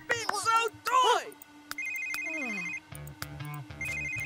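A Sims 3 phone rings over the game's background music: a repeating electronic tone pattern. A voice talks over the first part.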